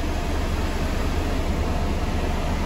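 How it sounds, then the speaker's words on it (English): Air conditioning in a silver 2016 Ford Transit 2.2 TDCi panel van blows as a steady, even rush of air that fills the cab without a break and without talk. "Has got aircon, as you can see"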